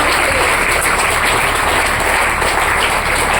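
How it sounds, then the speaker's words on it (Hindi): Loud, continuous applause from a large audience at a training session, a thick unbroken roar of clapping at close range, steady throughout with no speech. "डॉक्टर रीम सर के लिए जोरदार ताली होनी चाहिए"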